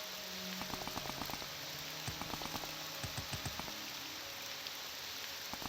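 Rain falls in the Tamriel Rebuilt game, a constant hiss with scattered sharper drop-like ticks and patters across the scene, steady and moderately loud.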